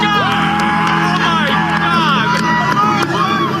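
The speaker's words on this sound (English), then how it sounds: "We're hearing some kind of cheer." Crowd cheering and whooping at a gathering, a dense swelling roar of many voices with shouts and excited babble, loud and sustained throughout.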